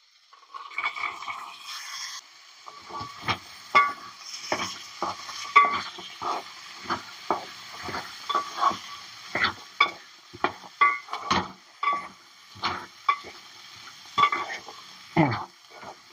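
Rajma beans tossed into hot oil with coriander for a tempering, stirred with a series of sharp, rhythmic spatula scrapes and clacks over a steady sizzle, close and moderately loud.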